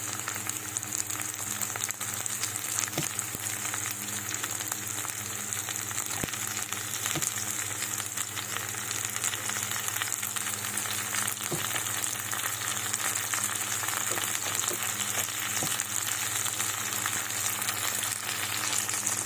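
Liver and onions fry in a pan with a constant, even sizzle and crackle throughout, close and steady with a few faint clinks.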